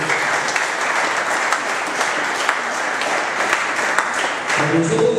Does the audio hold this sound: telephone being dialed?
no